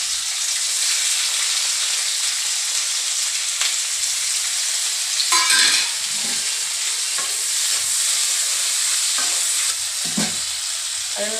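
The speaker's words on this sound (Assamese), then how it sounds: "তেলটো গৰম হৈ আহিছে আৰু দি দিছোঁ কটা পিঁয়াজখিনি" Chopped onions frying in hot mustard oil for a mutton recipe, a loud steady sizzle with a few scraping stirs and clinks in the middle, no voices.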